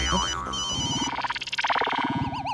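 A warbling electronic mobile phone ringtone plays loudly and continuously, its pulsing melody sounding over overlapping voices and background clatter.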